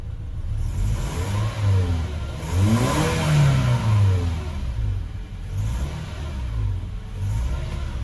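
A 2008 Toyota Tacoma pickup engine, warmed up, revs up and down several times, rising and falling in pitch, heard close with a rumbling idle between revs.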